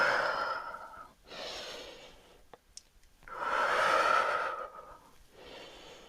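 A person doing a yoga arm and shoulder exercise breathes out slowly through the nose and mouth, two soft, drawn-out breaths close by in a quiet room.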